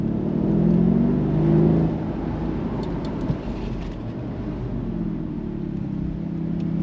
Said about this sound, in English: gargle from the engine